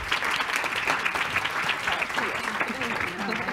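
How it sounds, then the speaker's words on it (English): An audience at a food conference breaks into steady, sustained applause, a dense wash of clapping throughout with faint crowd murmur underneath. "Let's give them all a round of applause,"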